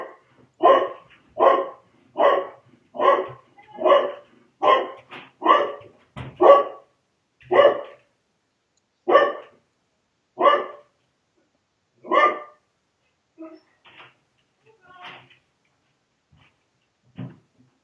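A dog barks in a steady series of about a dozen loud, close barks, then trails off into a few fainter, scattered yips and sounds.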